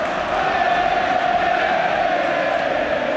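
A Premier League football stadium crowd at Manchester City versus Chelsea roars in a steady, sustained wall of chanting and cheering, loud and continuous throughout with no talk on top.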